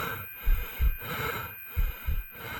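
Voice imitating panicked breathing, with a run of sharp, snorting breaths in uneven pairs, close and fairly quiet with no words.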